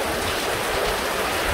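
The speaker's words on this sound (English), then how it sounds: "we're dealing with the rain now" Steady rain pours onto the deck and covers of a CL Yachts CLB88 88-foot Cheoy Lee yacht, a loud, dense, unbroken hiss of water with no pauses or voices.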